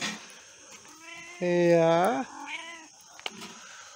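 A cat gives one long, drawn-out meow close by, rising and bending at the end, on a rural property in the Algarve, Portugal; a person speaks briefly around it amid faint background noise.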